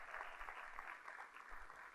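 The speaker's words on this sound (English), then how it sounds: "Big round of applause for John the 23rd." Audience applause for an award-winning secondary school at a schools forum: faint, steady clapping from a seated crowd, continuous through the short stretch.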